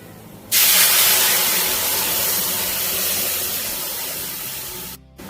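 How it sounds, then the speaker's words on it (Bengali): Lentil dal, masoor cooked with jute leaves, poured into a hot pan over fried crushed garlic, bursting into a loud, steady broadband sizzle that starts abruptly and holds for several seconds before cutting off. "এবার আমি ডালটা ঢেলে দেবো।"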